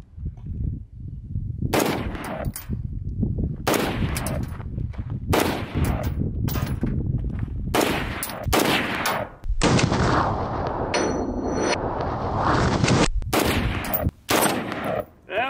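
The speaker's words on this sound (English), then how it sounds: "It's only the second time I've ever shot an AR." Sharp AR rifle gunshots at an outdoor shooting range ring out one at a time, about eight loud reports spaced a second or two apart, with a longer rumbling stretch near the end.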